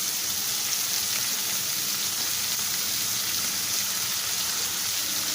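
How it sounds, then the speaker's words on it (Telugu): Fenugreek leaves added to onions already fried in oil for a Telugu tomato methi curry, giving a dense, even sizzle that hisses continuously up close with no pauses. "వేసేసి ఆయిల్లో మంచిగా ఫ్రై అయ్యే వరకు ఇది ఫ్రై చేసుకోవాలండి"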